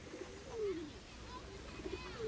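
Pigeons cooing outdoors while someone feeds them, soft low coos repeated a few times over steady background noise and faint murmur.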